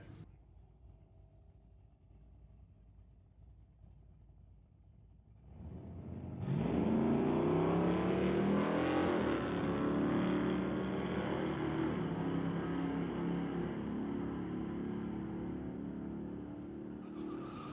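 A 1990 S10 Blazer and a 1978 Monte Carlo launch side by side at a street-legal drag strip, engines roaring up from a quiet idle into a loud, sustained rising howl heard from trackside.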